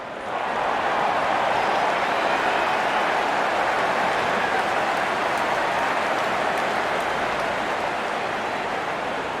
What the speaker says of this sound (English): Out come the openers, cheered by a good crowd in.